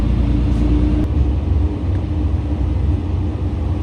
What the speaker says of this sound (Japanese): 越前花南道駅を出発しました